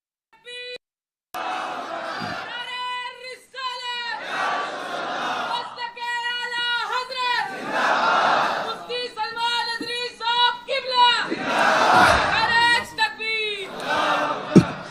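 A large crowd at a religious gathering shouts slogans in unison, loud repeated chant bursts with roaring pauses, led by a voice and answered in waves across the whole stretch.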